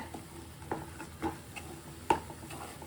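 Onions and spices for a mochai masala are sautéed in a pan over a faint sizzle, with a spoon scraping and tapping the pan a few times, soft and close.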